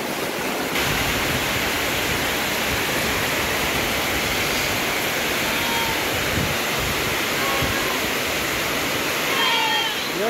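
Heavy daytime rain pours down with strong gusting wind, a dense continuous roar close by and steady throughout, with faint chirps near the end.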